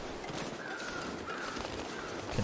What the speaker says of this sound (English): Can hear crows.